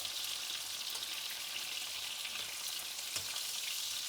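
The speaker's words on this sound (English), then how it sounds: "we're going to now cook those again on that side for about another 3 minutes" Chicken cutlets sizzle in hot oil in a pan, a steady dense hiss that holds at an even level throughout with no one speaking.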